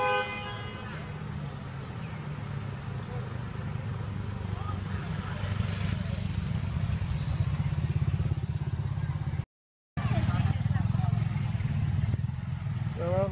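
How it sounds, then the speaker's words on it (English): Cars and motorbikes stream along a busy street with a constant close engine rumble. Several short horn toots come early, the sound briefly cuts out, and voices talk over the traffic. "So a lot of cars, a lot of motorbikes just on the street"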